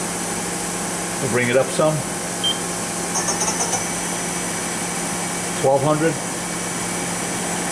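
A Mori Seiki ZT-1500Y twin-turret CNC turning center with its spindle spinning a 3-jaw chuck, a steady mechanical hum under a voice and a few short electronic beeps.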